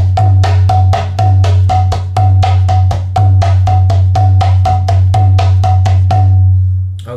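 A mridanga drum plays a fast, steady ti dha dhei dha variation, its deep resonant bass stroke booming under crisp repeated treble slaps, loud and close, with no talking.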